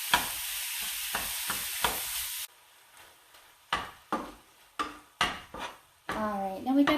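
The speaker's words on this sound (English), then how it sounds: "And so we are going to brown this pound of turkey sausage." Browning a pound of turkey sausage in a pan, a loud steady sizzle that cuts off abruptly, followed by a series of spatula scrapes and knocks with brief frying bursts.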